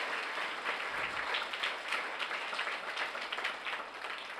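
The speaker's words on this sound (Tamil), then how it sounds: "நாம் கைத்தட்டி நம்முடைய நன்றியும் வாழ்த்துக்களை தெரிவிப்போம்." A congregation claps at a church feast-day Mass, a dense, steady round of applause filling the whole stretch at fairly close range, with no voices standing out above it.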